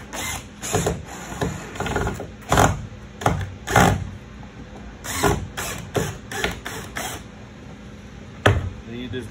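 A power screwdriver driving screws into a clamped wooden broom closet, short whirring bursts with clatter and handling knocks nearby, and a person talking in between.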